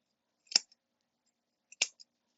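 Two crisp, close scissor snips about a second apart as hair is trimmed on a standard poodle, each a short metallic slicing click in otherwise quiet surroundings.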